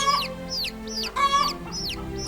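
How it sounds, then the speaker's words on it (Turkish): Video game chickens cluck repeatedly in short, bright bursts over a steady low hum, the calls coming in a loose rhythm every half second or so. "Horoz seslerine bak."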